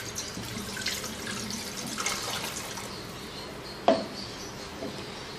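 Water poured into a pan of chicken for chicken yakhni, a steady, soft splashing stream running throughout, with a sharp clink near the end.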